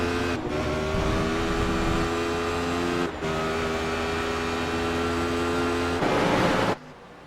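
Race cars, including Radicals, McLarens and Chevy Silverados, run a multiclass race at Watkins Glen. A steady, loud engine drone holds with a strong tonal whine, then cuts off abruptly near the end.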